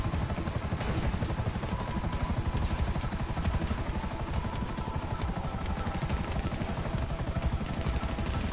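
A helicopter in GTA V Online thumps with a steady, dense rotor chop and a high turbine whine, loud and close throughout with no break.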